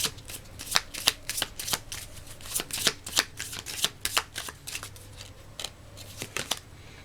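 A deck of divination cards being shuffled, a run of quick riffling flicks and soft slaps in an uneven rhythm, close and fairly quiet with no talking.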